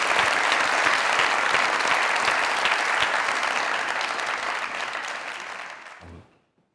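A live audience at a comedy show applauds comedian Imran, loud dense clapping that holds steady for several seconds before fading out and stopping.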